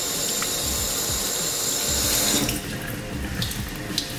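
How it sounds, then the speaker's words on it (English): Running tap water pours steadily into a kitchen sink as canned beans are rinsed, a close, continuous splashing hiss with brief clatters partway through and no talk. "So rinse them off and get all like the liquid off of them"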